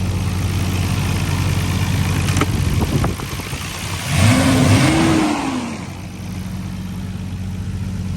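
A Nissan R32 GTR engine idles steadily after a repair with a new OEM fuel filter, a low even hum that briefly rises in a short rev before settling back to idle, heard close and with no talk.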